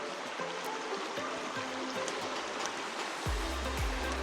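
Creek water runs over rocks on an off-road trail, a steady broadband rush close by that swells slightly louder near the end, with a faint low engine-like hum underneath.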